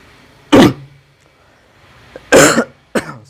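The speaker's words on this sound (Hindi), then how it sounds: "सॉरी, थोड़ा खांसी है" A person coughs in three sharp bursts, close and loud, separated by quiet pauses, with the second burst longest and a brief throat catch just before it; a Hindi-speaking teacher going through a compound proportion maths lesson.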